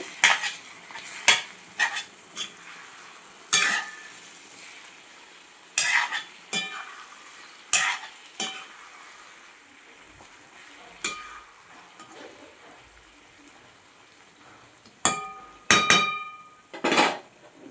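Stuffed eggplant fry with turmeric is mixed in a pan, giving sharp, intermittent spoon scrapes and clinks against the metal over a quiet sizzle, loud and close, with gaps between strokes.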